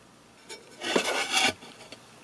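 An aluminium CARL shelf divider board is handled, giving a short rubbing, scraping burst of about a second between lighter touches, close and fairly loud with no talking.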